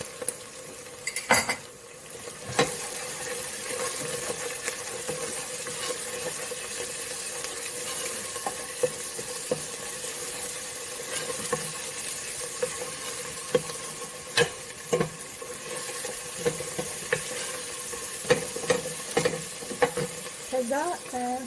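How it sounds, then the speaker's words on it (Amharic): Onion and garlic sizzle in hot oil in a pan while a stew of potatoes and meat is prepared, with a steady frying hiss and scattered clinks of a stirring utensil against the pan, no talking. "በዘይት ሽንኩርቱን ይሄን ያህል ከጠበስኩት በኋላ ነጭ ሽንኩርቱን እጨምረዋለሁ።"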